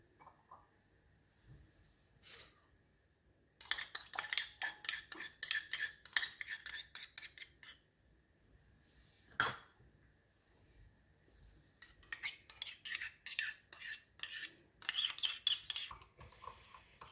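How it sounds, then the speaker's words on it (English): A spoon clinks and scrapes against a bowl while Pad See Ew sauce is stirred together, in quick rhythmic bursts of clatter with a brief pause between stirring runs. "Just mix the sauce together like this and set it aside until it's ready to be used"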